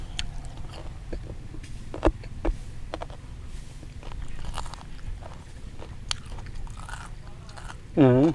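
Close-up crunchy chewing of grilled pork leg with tendon, irregular sharp bites and crunches, with a brief voice near the end.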